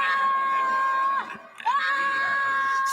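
A boy screaming in a film, a sustained shrill scream that breaks off briefly, then resumes at full loudness.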